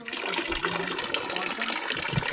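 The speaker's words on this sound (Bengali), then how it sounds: "দেখুন পাথরের ফাঁক দিয়ে জলের একটা ধারা এখান থেকে বেরিয়ে আসছে।" Natural stream of water pouring out through a gap between rocks at Cherrapunji, Meghalaya, a steady close splashing gush with no talk.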